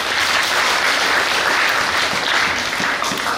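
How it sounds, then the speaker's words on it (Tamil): An audience at a house-opening ceremony bursts into loud, dense, continuous applause, steady throughout with no talk over it. "கைதட்டுங்க."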